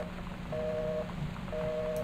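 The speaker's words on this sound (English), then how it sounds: "There's a phone." Telephone dialing tones from the video game Gone Home: two steady electronic tone bursts about half a second each, separated by a short gap, clear and close over a low room hum.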